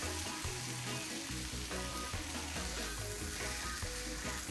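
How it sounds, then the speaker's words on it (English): A T-bone steak sears on a Blackstone griddle, giving a steady, close frying sizzle that runs the whole time, with some scraping and stirring on the flat top and no talk. "We'll sear that up a little bit."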